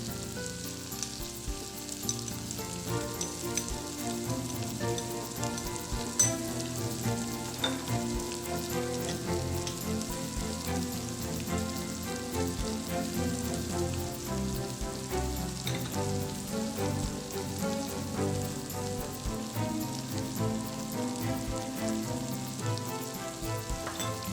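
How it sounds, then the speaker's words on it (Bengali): Chickpeas fried with spices sizzle in a pan, a steady, dense crackle with no break, while stirring adds soft scraping under it. "সবগুলোকে একসাথে একটু নেড়েচেড়ে নিয়ে একে একে মশলাগুলো দিয়ে দিচ্ছি।"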